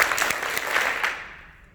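Audience clapping on cue during a coach tour event: a short burst of several sharp, unison claps that quickly fade away into quiet.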